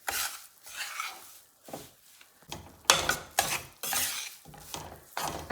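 A spoon stirs roasted besan with cardamom powder in a pan, making repeated scraping strokes in an uneven rhythm, close and moderately loud.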